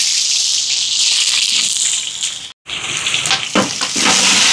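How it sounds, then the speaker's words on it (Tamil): Ghee crackles loudly with cardamom, cloves, onion and green chilli dropped into a hot pan, a sharp close sizzle that breaks off for a moment then surges back, no voices. "இதோட நெய் சேர்ப்போம். சூடாட்டம் ஏலக்காய், கிராம்பு, வெங்காயம், பச்சை மிளகாய் எல்லாம் சேர்ப்போம்."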